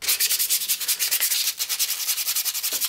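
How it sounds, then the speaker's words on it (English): Hand file rasping over the curved inside of wooden hand plane parts, a steady back-and-forth rhythm of bright, gritty strokes, close and continuous without talk. "so I just got a file to do the rest of the work."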